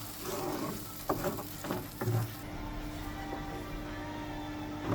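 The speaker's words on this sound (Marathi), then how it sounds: "एक 5 मिनटां मसालो बरो भाजून घेवपाचो" Goan masala paste fries in a pan with a dense crackling hiss and a few stirring scrapes at the start, then the sizzle settles to a softer, steady simmer; there are no voices.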